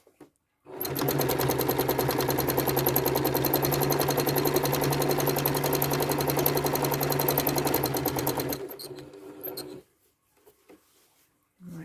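A quilting sewing machine stitches repeating curves at speed, its steady rapid mechanical whir running close and loud for about eight seconds before stopping, followed by a few faint handling sounds.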